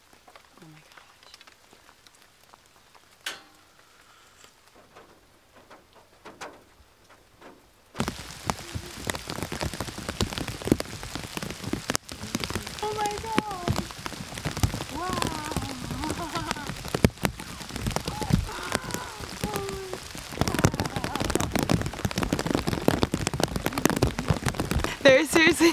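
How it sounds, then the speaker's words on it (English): Rain drums on the metal roof of a cargo van on the southern coast. After a quiet start the heavy, tinny patter sets in and continues steadily, with a voice exclaiming softly over it. "the rain hits different spots in the van"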